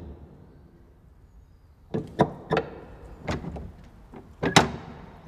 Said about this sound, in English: I found a squeak point in the door, and I wanted to get a couple of different squeaks so that you can use that for opens and closes